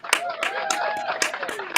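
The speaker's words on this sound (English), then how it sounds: "a round of applause for the taser" A live audience claps in a short, uneven burst of applause at a wrestling-style show, the claps close and sharp, with a voice talking over them.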